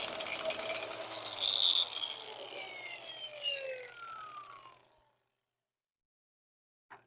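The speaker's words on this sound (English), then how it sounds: "I might smooth that out with a grinder real quick" An angle grinder smooths a metal lip on a Polaris RZR Turbo S part, its high whine sliding downward as it winds down, then going silent after about five seconds.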